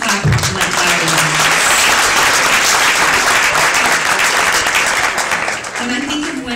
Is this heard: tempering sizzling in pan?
no